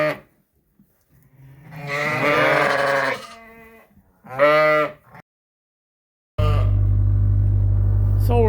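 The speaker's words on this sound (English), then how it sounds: "So there's a lamb, 2 lambs. These guys are nursing, Lynn says." Ewes and lambs call out in a barn with loud, close bleats, a long wavering cry followed by a shorter one, then a steady low droning hum takes over near the end.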